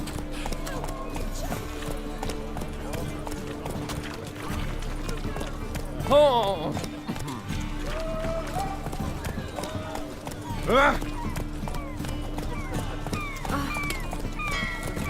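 Video-game hooves clip-clop at a steady gallop, with a horse whinnying twice, under a person talking.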